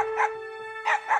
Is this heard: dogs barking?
yes